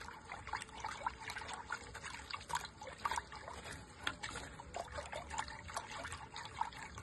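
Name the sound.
stirring a flour mixture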